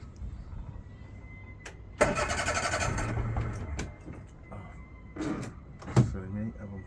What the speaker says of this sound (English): I'm going to see if it starts. There we are, turning the key.